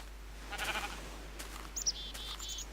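A sheep in the Minecraft video game gives a few short synthetic bleats, alone and fairly clear, followed by brief high chirpy game effects as it is sheared.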